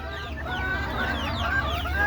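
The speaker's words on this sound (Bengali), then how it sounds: "এখন দুপুরের খাবার দিতে আসলাম মুরগিকে" Desi chickens cluck and call continuously at close range during feeding time after rain, with overlapping bird voices and no talk.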